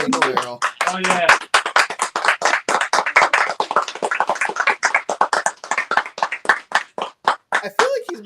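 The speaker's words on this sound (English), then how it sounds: "This is the moment for applause." A small group claps during a casual celebration livestream, a long run of sharp, close, individual hand claps in an uneven rhythm, with voices talking briefly at the start and near the end.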